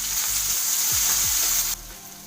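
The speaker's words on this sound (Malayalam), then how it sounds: "കുറച്ച് വേപ്പില കൂടി ഇട്ട് കൊടുക്കുക." Curry leaves dropped into hot oil in a frying pan with onion and tomato crackle and sizzle loudly with a steady hiss, a couple of stirring scrapes, then the sizzle abruptly quietens near the end.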